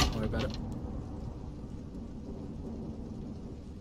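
A thunder rumble in a Roblox horror game, a crack at the start fading into a low, steady rolling roar with rain-like hiss, while players talk.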